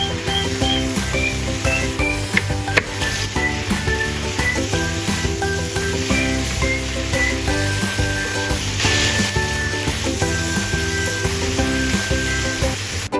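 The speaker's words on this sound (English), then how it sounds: "A couple of stirs with the seaweed done in seconds." Cabbage and seaweed stir-fry in a hot pan, giving a steady, loud, continuous sizzle with faint scraping and clinks of stirring scattered throughout, with no voices.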